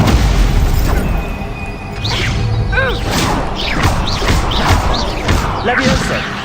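A Stupefy spell is cast in the video game Hogwarts Legacy, a loud burst of magical whooshes and crackling impacts over a dense, booming game soundscape, with a voice calling out the spell over the action.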